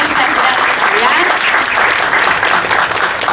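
A panel-event audience at a Peruvian startup forum applauds, a steady, dense wash of clapping from a sizeable crowd filling the room at constant loudness throughout.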